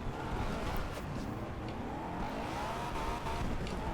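A Honda S2000 drift build in Forza Horizon 2 drones steadily at high revs with faint gear-change blips and light tire noise, a continuous engine sound that stays level throughout with no voice.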